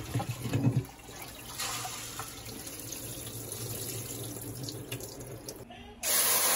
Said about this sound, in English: Measure 2 cups of rice and wash it properly so as to remove the starch.